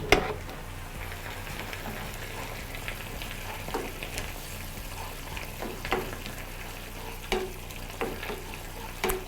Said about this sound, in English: So now I will add our peppers, just so that they can cook just a little.